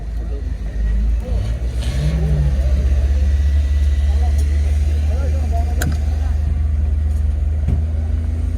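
A 1993 Opel Vectra A idles with a steady low engine rumble throughout, close and loud, while someone talks over it.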